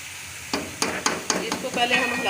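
Chopped spinach dropped into a pan of fried potato masala with tomato paste, a short run of sharp sizzling bursts and stirring scrapes over about two seconds, close and fairly loud.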